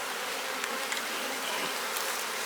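Honeybees swarm around a hive frame lifted from a small colony, a dense, continuous buzzing close by with no voices.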